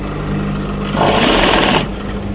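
A sewing machine stitches women's office trousers, running at a steady whir that jumps to a louder, faster burst of stitching for about a second before easing back to the slower hum, close and alone without talk.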